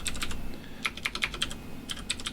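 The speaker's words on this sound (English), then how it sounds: "And then I'm going to type my email address." An email address being typed on a computer keyboard, with short bursts of close, crisp key clicks in quick uneven rhythm and brief pauses between groups.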